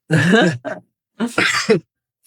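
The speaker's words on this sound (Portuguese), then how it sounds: "por isso que eu tô tossindo toda hora no vídeo" Someone with a cold clears their throat and coughs in a few rough bursts, close and fairly loud, with short pauses between.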